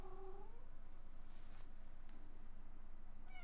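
A cat gives a drawn-out, wavering meow at the start, then stays mostly quiet over a steady low hum, with another short meow beginning at the very end.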